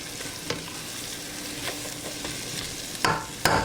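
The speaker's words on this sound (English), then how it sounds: "and we're going to let that simmer" Butter with green pepper simmering in a pan for shrimp and grits gives a steady low sizzle, with a few louder clatters and scrapes toward the end and no talking.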